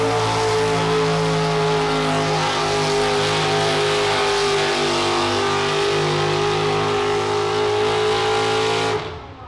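Tractor pull engines roar at a state fair grandstand in North Carolina, a loud, steady, sustained engine drone with no pauses that holds for about nine seconds and then cuts off abruptly.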